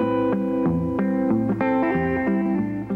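A Gretsch electric guitar plays a riff fingerstyle, with bass notes and melody together in a steady, bright, rhythmic pattern with effects, close and alone.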